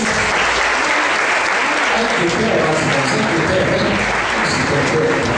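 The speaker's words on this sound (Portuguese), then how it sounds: "Aplauda o Senhor nessa noite." A church congregation applauding during an evening worship service, loud, dense and continuous clapping mixed with crowd noise throughout.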